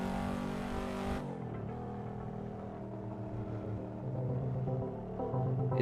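A Volvo's engine flooring in the Assetto Corsa driving sim on a Japan track, a loud steady drone whose pitch drops at a shift, then climbs again as it revs, with no talking.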